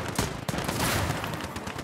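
A tank fires during a hectic USA-versus-USSR defense in the WWII strategy game Gates of Hell: Ostfront, a loud close blast followed by a rolling barrage of gunfire and explosions.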